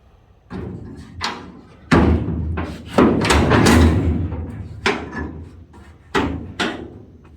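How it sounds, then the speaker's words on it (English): The tailgate latch on a 1966 Ford Bronco clunks and slams repeatedly, a series of close, loud metallic thuds and rattles with short gaps between them. "So it sounds like the latch makes a lot of noise."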